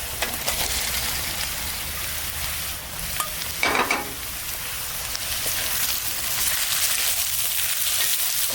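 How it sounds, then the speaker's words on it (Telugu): Marinated paneer cubes frying with onions in a pan: a continuous close, dense sizzle with crackling spatter, a brief louder hiss midway, and no talking. "సో ఈ స్టేజ్లో మ్యారినేట్ చేసిన పన్నీర్ని కూడా వేసేస్తాను."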